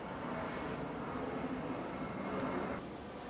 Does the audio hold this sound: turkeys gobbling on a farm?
no